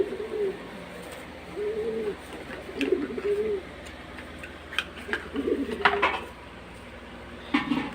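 A pigeon being given eye drops for a watery eye coos softly in several short bursts, with light handling clicks and taps close by.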